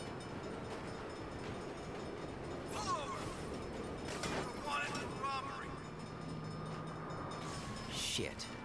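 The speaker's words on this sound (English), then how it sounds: "Crap. Bad time for a train." A train in Saints Row rumbles past with a heavy rolling roar, rattling clatter and a long horn-like tone, under game effects and a voice talking.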